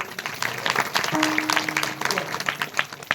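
An audience at a Ganesh Jayanti religious discourse in Alandi claps steadily, a dense wash of many hands that continues without a break for the whole stretch.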